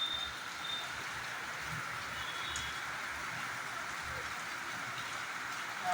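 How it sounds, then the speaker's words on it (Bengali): Steady, dense rainfall hisses evenly throughout, a continuous wash of drops with no pauses and a faint low rumble underneath. "আরো জোরে বৃষ্টি হচ্ছে।"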